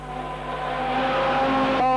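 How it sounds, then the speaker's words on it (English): Mini sprint cars race at City Raceway, their engines droning in a steady tonal whine that swells louder as the pack nears, ending with a sharp change in pitch as a car passes close by. "Mini sprint car racing here at the City Raceway"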